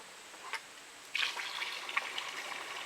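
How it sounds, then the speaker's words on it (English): A watering hose runs water into a container in a faint, soft trickle and splash that starts after a moment and carries on quietly. "We got us a watering hose here."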